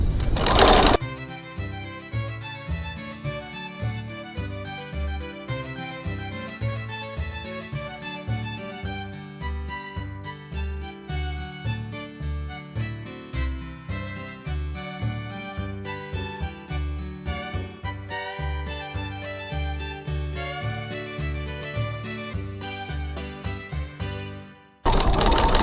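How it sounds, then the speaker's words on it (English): A sewing machine stitches around a fabric bag piece about 3 mm from the edge, running in a fast continuous mechanical rattle with brief pauses, loud and close, ending with a burst of noise. "I'm stitching about 3mm 1/8 of an inch from the edge"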